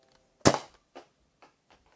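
A Nerf Mega Tri Break blaster fires its third barrel with one sharp, loud foam-dart pop. Three much fainter clicks and clatters follow in the moments after it.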